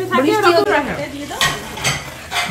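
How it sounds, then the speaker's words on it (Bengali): Meat being slow-fried and stirred with a metal spatula in a pan at a cabin kitchen, steady sizzling with scraping strokes against the pan, while people chat nearby and papad fries close by. "এটাই হচ্ছে কষানো আর কি, যে খুন্তি নেড়ে নেড়ে কষানো"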